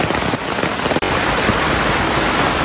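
Heavy rain pours down in a dense, loud, continuous hiss, with a brief dip about a second in before the downpour carries on unbroken.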